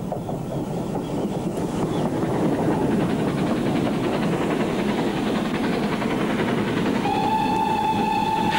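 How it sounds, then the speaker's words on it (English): Steam train with a large prairie tank locomotive passing on a 1930s main line, a loud continuous rumble and clatter of wheels and carriages, with a sustained whistle blast near the end. "we see a large prairie coming off the line from Bearley and Stratford"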